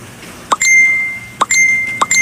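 A cellphone gives three short, bright text-message notification chimes, each a sharp ding followed by a sustained tone, evenly spaced and loud with no voices.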